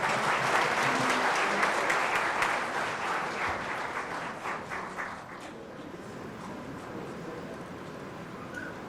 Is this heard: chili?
no